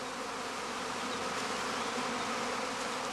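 A honeybee swarm buzzes steadily near a straw skep, a dense, continuous droning hum with no voices.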